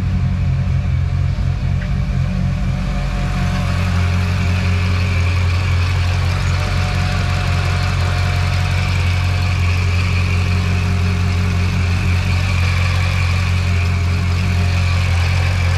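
Supercharged Mercedes M113K V8, fitted with EV14 550cc injectors and SIKKY thermal gaskets, idles loud and close right after its first start, a steady deep rumble with a slight uneven lope holding throughout.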